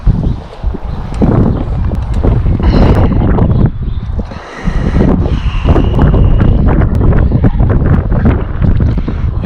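Strong wind buffeting the microphone outdoors under a bridge while fishing, loud roaring gusts with brief lulls throughout.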